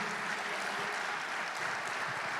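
Church congregation applauding during a sermon, a steady, dense wash of clapping that stays loud and even throughout with no pauses.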